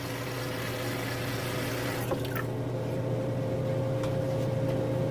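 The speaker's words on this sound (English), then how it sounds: "I just got that filling up with water there" Steady rush of water running into a container, a continuous even hiss with a low hum beneath and a couple of faint clinks.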